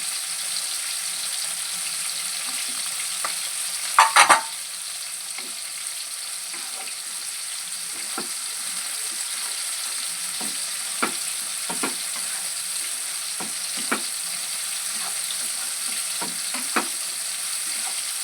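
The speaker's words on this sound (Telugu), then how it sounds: "వంకాయలు కాసేపు మగ్గాలండి." Eggplant pieces cook in a pan with a faint, steady sizzle, broken by scattered soft stirring clicks and one brief louder clatter near the start; no one speaks.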